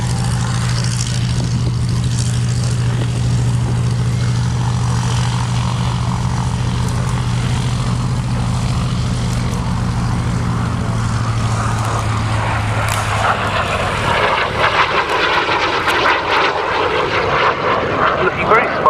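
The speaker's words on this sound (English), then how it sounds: "Final pass then, coming up for the hunting Jet Provost T3A of the Newcastle Jet Provost Group." A Hunting Jet Provost T3A jet trainer makes a flypast at an airshow, its loud engine roar building then sweeping into a rushing, hissing wash as it passes nearby, with a commentator speaking over the sound.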